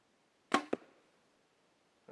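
An arrow fitted with FOB fletching strikes an old, beat-up corky log outdoors: a sharp thwack, then a second quick knock a beat later, both close and clear, followed by quiet.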